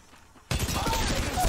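Gunfire in Apex Legends Mobile breaks in abruptly after a quiet moment, a loud, sustained burst of shots close by that carries through to the end.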